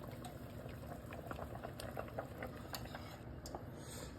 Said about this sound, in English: Just pour that baby in there.